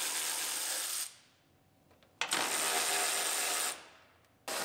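A hand ratchet on screws in the A-pillar of a 2007 GMC Sierra, heard close as two long runs of rapid clicking separated by a brief pause, then starting again.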